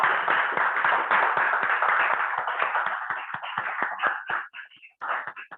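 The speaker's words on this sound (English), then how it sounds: "So a big round of applause to all of us." Group applause in a meeting-room gathering of a club session, a dense burst of many hands clapping that thins toward the end into scattered individual claps, with brief voices near the close.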